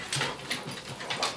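A dog howls and whimpers in several short, close, rising vocal bursts repeated at an uneven rhythm, with no talking.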